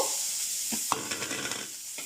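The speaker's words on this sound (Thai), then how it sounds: "แล้วก็คั่วมันรวมกันนะทุกคน" Pork stir-fried together in a pan: a brief burst of hissing sizzle with quick scraping stir strokes, close and steady, no one speaking.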